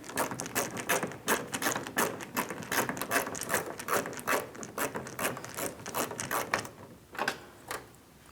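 A ratchet driver clicks rapidly and steadily as a Torx T20 screw is backed out of the exterior door handle bezel on a 2015-2025 Ford Transit 250, close-up and continuous, slowing with a few final clicks.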